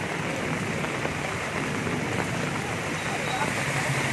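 Torrential kalboishakhi storm rain drums in a steady, dense roar close by, continuous throughout, with faint voices in the background.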